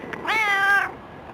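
A single clear, close cat meow rises and holds for about half a second, then fades, heard alone with no talking.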